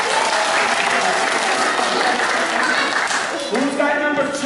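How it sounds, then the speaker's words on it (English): A group claps in steady, close applause as a classroom-style painting activity wraps up, with an adult voice speaking over the clapping near the end. "Let's clap."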